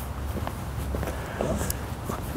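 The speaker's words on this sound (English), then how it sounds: "I can literally hear footsteps." Soft, irregular footsteps shuffle across a floor under a steady low hum, faint and somewhat distant.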